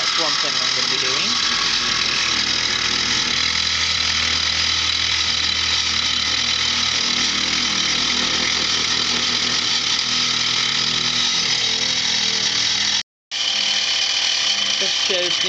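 A noisy gear-driven brass machine with gears that run rough, grinding and whirring continuously at close range, with a brief cutout near the end.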